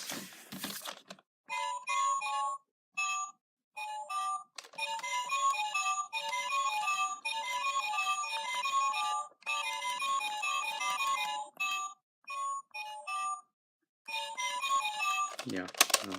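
Button presses on a DX Zyuoh Changer toy trigger a run of short electronic tune snippets and beeping jingles, separated by brief silent gaps, with a clatter of handling at the very end.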